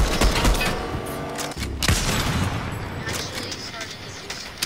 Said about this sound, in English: Who is sniping?